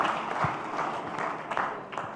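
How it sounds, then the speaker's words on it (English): A round of applause at an entrepreneur awards ceremony, a soft, steady ripple of clapping from the hall, fairly faint and distant with no talk over it. "we give a round of applause to the guys who did this animation"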